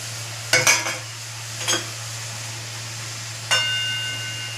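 Prawns and bottle gourd cook in a pan, with a steady low sizzle under a constant hum. A few sharp clanks and scrapes of a utensil against the pan break through the sizzle.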